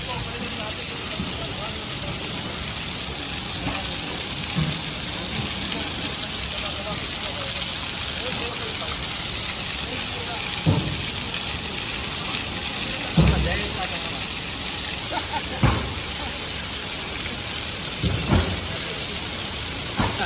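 Rain falls steadily in Morbi, Gujarat, a constant wash of noise broken by a few sharp knocks and thumps, with faint voices in the background.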